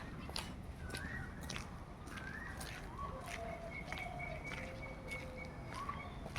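Birds give soft, scattered calls and short whistles during calm rainy weather, set against a steady low wash of rain or ambient noise.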